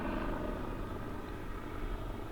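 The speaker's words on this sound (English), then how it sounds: "aside from the helicopter doing crazy banking" A helicopter banks overhead, its steady throbbing rotor drone loud and continuous throughout with no voices.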